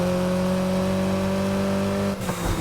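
A car in Need for Speed Heat surges under nitrous boost, its engine droning loud and steady with a high whine before a brief rough break near the end.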